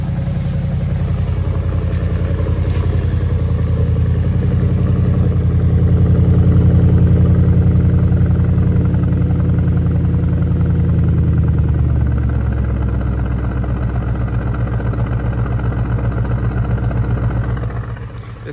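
A stock Audi S6 with a 4.0T V8 and factory performance exhaust runs at a steady, deep idle, loud and close, with a slight swell and then a settling lower rumble before it cuts off at the end.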